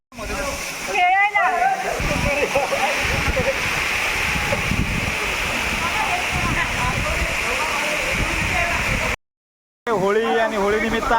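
A waterfall that flows all year in Konkan roars in a steady, dense rush of falling water, loud and close throughout, with people's voices briefly rising over it and a short gap of silence near the end.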